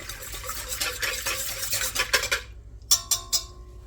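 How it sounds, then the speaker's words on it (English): A whisk stirs 2 1/4 teaspoons of yeast in water in a bowl for sourdough bread, a busy scraping swirl that stops abruptly, followed by a few light metallic taps and clinks. "we're going to give that a quick stir with the whisk"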